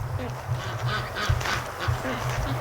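Ducks near a swamp give repeated low honking quacks, several calls overlapping in an irregular rhythm, fairly close and clear against outdoor background noise.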